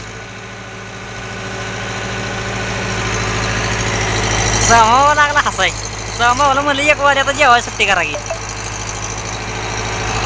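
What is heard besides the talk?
tractor engine running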